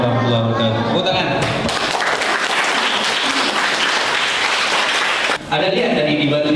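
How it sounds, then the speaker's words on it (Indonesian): Elementary schoolchildren on a visit to the Samudra Pasai Islamic museum break into loud, close applause lasting several seconds between stretches of speech. "Tepuk tangan."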